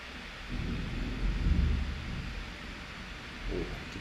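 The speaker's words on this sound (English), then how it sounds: "Did you guys hear that thunder?" A low, muffled rumble of thunder swells and fades in the distance, heard faintly indoors over steady background hiss, with a soft second murmur near the end.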